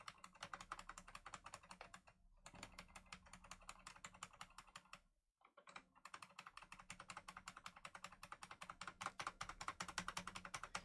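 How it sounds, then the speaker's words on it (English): Computer keyboard keys typed rapidly during a game session, a dense fast clatter of close clicks with two brief pauses, no voices. "You can just hear me spamming the keyboard keys."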